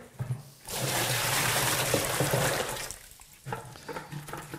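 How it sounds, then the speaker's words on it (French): Water pours steadily into the bottom of a bin for mixing floor leveller, a loud continuous gush lasting a few seconds before tapering into splashes and knocks. "On va commencer par verser l'eau au fond de la poubelle."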